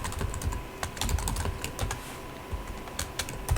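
Rapid typing on a computer keyboard while writing C# code for a WinForms application, irregular close clicks and key taps with no speech.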